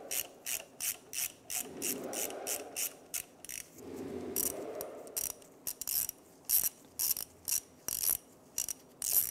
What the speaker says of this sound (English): using a number 8 socket and our extension. Go ahead and loosen and remove the bolt holding this in place.